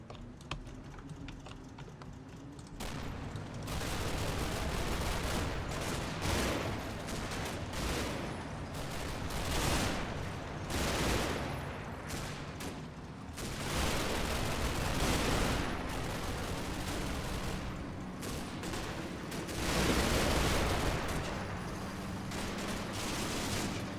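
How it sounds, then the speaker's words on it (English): Mortar impacts and gunfire in the Combat Mission wargame, with rapid crackling bursts of small-arms fire and sharp explosive thuds repeating densely over a steady, loud battle din. "We're getting some mortars and some fire on this halfback soon."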